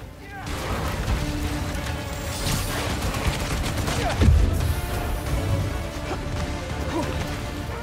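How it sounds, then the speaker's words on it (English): Bursts of gunfire and crashing impacts fill a battle in Spider-Man: Miles Morales, with repeated shots and smashes over dense game noise and a heavy thump near the middle. "Who else is shooting?"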